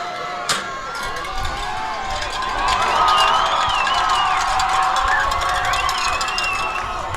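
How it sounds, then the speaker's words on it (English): High school football crowd of South Lyon Lions fans cheering their team at a game against Lakeland Eagles, a steady roar of voices and shouts that swells midway and holds, with whistles and calls rising above the din. "a lot of happy Lion fans right now that are standing and cheering their team on"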